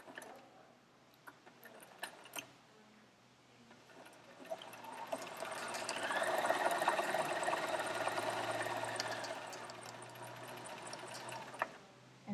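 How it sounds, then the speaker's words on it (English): Sewing machine stitching a quilt seam while piecing a ten-point star centre, a soft steady whir that swells in the middle and then slows, punctuated by light clicks, with no voices. "Start sewing again right where those two drawn lines cross over each other."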